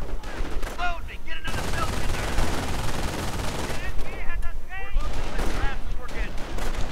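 MG42 machine gun fire in a World War II real-time strategy game, rapid bursts of automatic gunfire and battle noise mixed with units' shouted voice lines.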